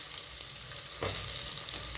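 Soya chunks fry in oil with a continuous near sizzle, broken by a couple of brief stirring taps and scrapes.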